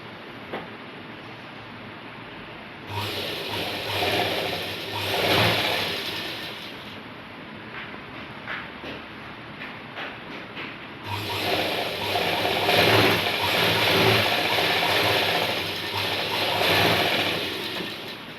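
A sewing machine runs in two long bursts, stitching a pant seam with a fast rattling mechanical whir, separated by a short pause with light handling.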